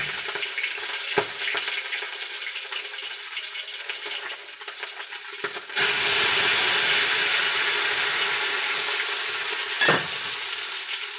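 Fish frying in hot oil after arak is added: a quiet clatter first, then a sudden loud, steady sizzle that holds for several seconds, with a brief knock near the end.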